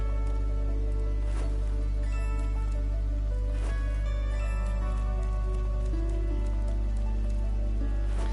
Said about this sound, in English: A raining library.